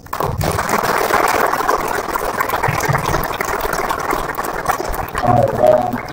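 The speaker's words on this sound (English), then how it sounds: "First round of applause" Applause from an audience after a technical talk, a dense steady patter of many hands clapping for several seconds, close and fairly loud with no voices.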